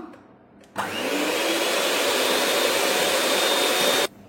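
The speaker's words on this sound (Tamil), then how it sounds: "இப்போ இதை ஹேண்ட் பிளெண்டர் வச்சு நல்லா வந்து பீட் பண்ணி எடுத்துக்கலாம்" A hand blender whips cream in a bowl for a dessert, a loud, steady electric whirr that starts abruptly, holds an even pitch for about three seconds, then cuts off.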